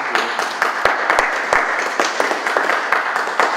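An audience at a Valcourt municipal council meeting applauds steadily throughout, a continuous, fairly loud patter of many hands clapping in an indoor hall.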